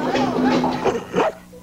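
Dogs bark and yip eagerly in a 1981 Chuck Wagon dog food commercial, a run of short, close barks mixed with voices and fading out near the end.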